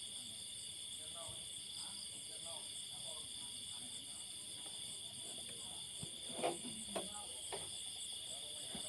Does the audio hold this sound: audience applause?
no